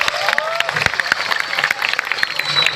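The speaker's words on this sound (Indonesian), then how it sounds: "Beri tepuk tangan buat beliau." Audience at an Islamic boarding school religious gathering applauding, scattered claps forming a moderate crowd applause under a speaker's voice.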